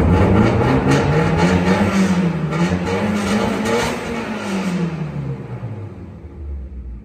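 A Mitsubishi Evo X with a full titanium exhaust and a cold engine revs loudly nearby, its deep rumbling pitch rising and falling before settling to a lower idle-like drone.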